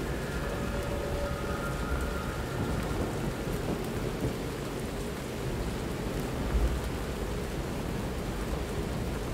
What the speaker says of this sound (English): I just noticed that it's heavily raining